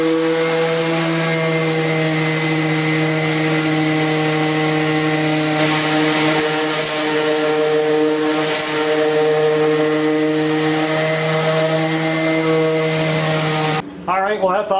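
A power sander hums steadily as it smooths the top of a dovetailed eastern red cedar step, a loud, even motor whine that holds for about fourteen seconds before it cuts off.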